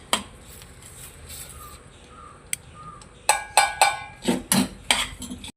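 Spoon scraping and clinking against a pan while semolina (rava) is stirred for kesari: a quiet stretch, then a run of sharp, close scrapes and knocks in quick succession.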